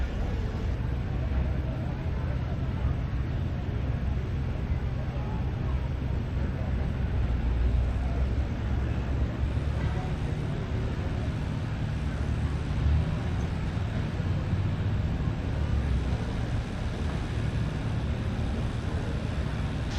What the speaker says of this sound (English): Our first lady driver of the evening on a McCormick tractor, a new series of tractors that came out a couple years ago